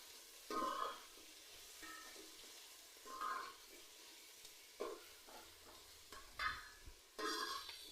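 Diced potatoes sautéed with spices in a pan for chholar dal khichuri, heard as repeated bursts of spatula scraping and stirring with a light sizzle in between, fairly quiet with no talking.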